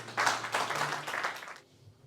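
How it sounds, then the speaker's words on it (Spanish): A church congregation gives a short round of applause, a quick patter of many hands clapping for under two seconds that quickly fades out. "Vamos a darle un aplauso a Ana."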